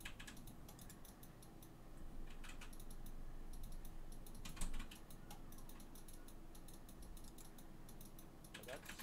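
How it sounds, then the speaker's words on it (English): Lola the cat treads on a computer keyboard, producing scattered soft key clicks and taps, including the space bar, over a steady background hum. "Lola, off the keyboard, you're pushing the space button."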